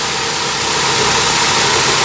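Toyota Corolla Twincam liftback engine idling close up, a steady, even, continuous hum with a dense broadband roar and no voices.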